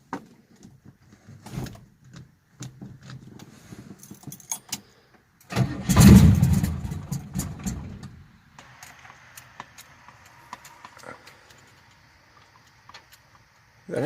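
Keys jangle, then an engine fitted with an 850 Holley carburetor, primed with gas poured down the carb, cranks and fires in a loud close burst lasting about two seconds before dying away, followed by faint rattles.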